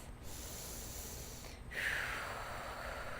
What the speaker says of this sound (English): Take 2 deep breaths here. One more deep breath.